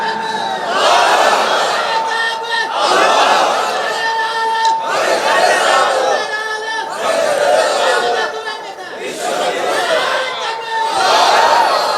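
A large crowd at a Bangladeshi religious waz gathering in Chuadanga shouts in unison in repeated loud waves, each swell of voices rising and falling several times in a row.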